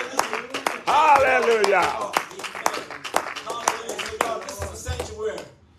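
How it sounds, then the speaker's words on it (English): Church congregation clapping hands in rhythm during worship, sharp repeated claps throughout, mixed with loud singing and shouted praise voices. "Let's clap our hands for Jesus."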